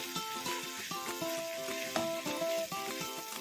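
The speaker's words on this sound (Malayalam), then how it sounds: "അതേപോലെ 2 തണ്ട് സെലറി, ഇതും ഇതേപോലെ തന്നെ ജൂലിയൻസായി കട്ട് ചെയ്ത് ഇതോടെ ഒന്ന് ചേർത്ത് നന്നായി ഒന്ന് വഴറ്റിയെടുക്കാം." Capsicum and celery julienne stir-fried for chow mein, a steady close sizzle with repeated scraping and tossing strokes of a spatula in the pan, no talking.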